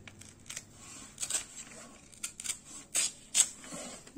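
Scissors snip through a rectangular paper sheet to trim it square for origami, a series of short crisp cuts spaced irregularly, close and fairly quiet, with faint paper rustle between them.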